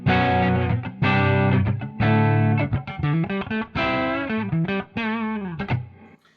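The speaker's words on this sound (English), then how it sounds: "Here is my clean tone. It's just clean into the amp with some reverb." A clean electric guitar played straight into a VS Audio Royal Flush amp plays a short melodic phrase of sustained chords and single notes, with a reverb tail ringing out after each phrase.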